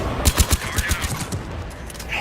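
Rapid video-game gunfire during a headshot in a shooter, a quick burst of sharp cracks in uneven rhythm followed by lighter scattered shots and game sounds.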